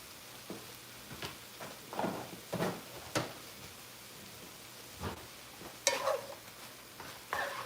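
Cajun shrimp dip being stirred in an aluminum pan, a series of scattered scraping and clinking strokes at close range, with pauses between bursts and no talking.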